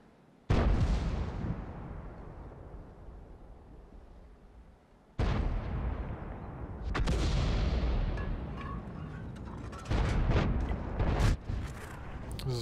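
Tank cannon shots and shell impacts in World of Tanks, including a Conqueror GC and an E5: several heavy booming blasts with long rumbling decay, one after another, loud and close, with no talk.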